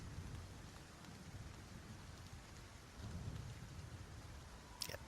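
Rain falls steadily in a faint, soft hiss with a low rumble, swells a little toward the end and is broken by one brief sharp tap.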